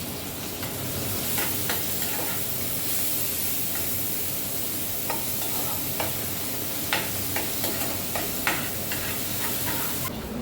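Finely chopped onion and cumin seeds fry in a pan of hot oil, giving a steady, close sizzle with scattered crackles and a few sharper pops, and no voices.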